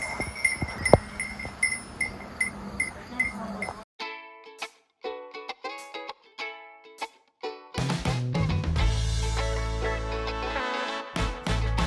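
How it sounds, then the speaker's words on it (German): Farm animals including a donkey, heard in Dresden, with a cowbell clinking in rhythmic strikes at first, followed by a burst of bright, tonal clanking and then a louder, denser stretch of mixed animal and bell noise. "Breeze, bist du ein kleines freches Eseli?"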